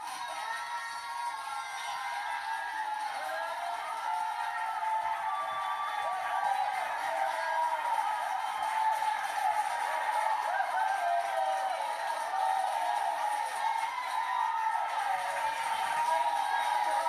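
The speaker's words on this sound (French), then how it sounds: "Tous ces gens sont là pour vous féliciter et vous applaudir." A large crowd cheers and whoops continuously at a steady level, with scattered high shouts and a dense, even wash of applause-like noise that never lets up.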